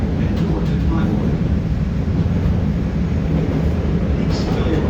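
A Chicago CTA Red Line train runs with a steady, loud low rumble and rattle throughout, continuous without pauses.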